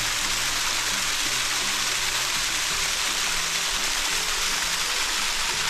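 Continuous rushing water, a steady bright hiss of a small stream flowing nearby in the Ozark National Forest, with no voices.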